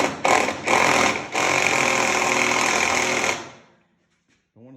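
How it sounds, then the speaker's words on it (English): An impact wrench or ratchet tightens a bolt on the decking of an old RV trailer, giving loud, steady mechanical rattling in bursts that stop after about three seconds and leave near-silence. "we're tightening the bolt."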